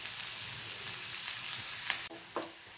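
Tomato, ginger and green chilli frying in a pan on medium flame for Parsi-style scrambled eggs, a steady close hiss of sizzling with brief stirring scrapes, quiet and with no talking.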